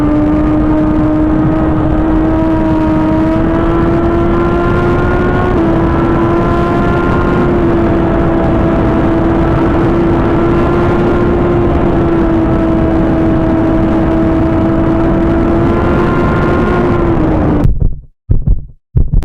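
A 2023 Suzuki GSX-R 1000 sportbike cruising at high speed, its engine holding a steady, close droning tone under heavy wind rush for most of the run before cutting out abruptly near the end.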